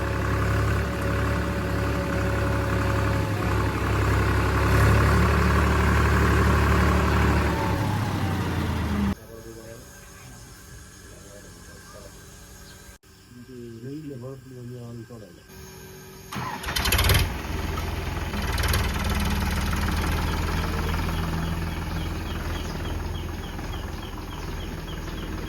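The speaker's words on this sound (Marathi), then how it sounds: "तर मित्रांनो फर्स्ट टाइम आयुष्यात पॉवर ट्रॅक चालवला." A Powertrac tractor's diesel engine cranks and catches, then settles into a loud, steady running rumble close by. A break midway brings quieter mechanical noise before the engine sound returns, and someone talks during parts of it.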